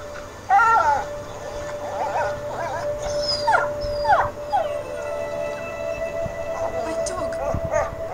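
A dog howls and whimpers in the stealth adventure game A Plague Tale: Innocence, with several rising, wavering cries over a steady tonal game soundtrack and a low background rumble.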